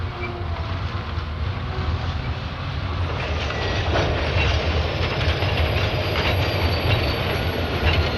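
Switch engines in a rail yard move and break down the cars of train 406, giving a continuous heavy rumble with rhythmic wheel clatter and a faint high squeal in the second half, with no talking.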